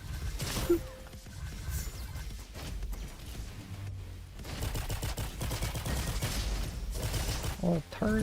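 Turrets fire in a video game as a dense, continuous clatter of rapid shots and impacts. The barrage is mid-loud and partly masked by game noise, with a voice talking over it briefly.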